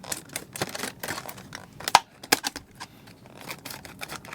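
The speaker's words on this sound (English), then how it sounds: "We got to go ahead and open up this one with the scissors as well." Scissors cut open the packaging of a Mini GT model car, a D1 Grand Prix drift car, in a few sharp, close snips among soft plastic and cardboard rustling.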